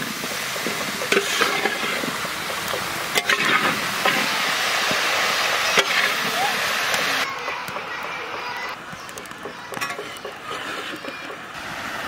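Papaya, pumpkin, potato, brinjal and pointed gourd are stir-fried in a pan, with a steady sizzle and clattering stirring throughout, a little quieter toward the end.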